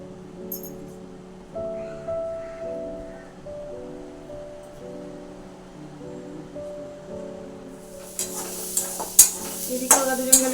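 Food sizzles and is stirred in hot oil in a home kitchen, after first being boiled in salted water; a steady low hum runs throughout, with louder scraping and sizzling bursts toward the end.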